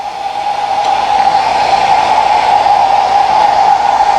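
A hair dryer blows continuously up close over a watercolor painting, a steady loud whoosh with a constant whining tone and no pauses.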